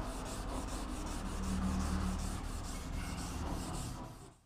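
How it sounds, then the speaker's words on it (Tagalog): Hand sanding of a primed car body panel to remove sanding marks: steady, close rhythmic rasping strokes of sandpaper over the surface, repeating evenly before stopping abruptly. "Gaya nito, medyo kanina ko pa nililiha, ayaw pa rin matanggal"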